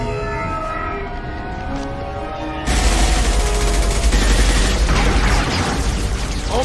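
Gunfire in the video game Mass Effect 2 erupts suddenly after a quieter tonal stretch, becoming a loud, sustained volley of overlapping shots and blasts that continues to the end.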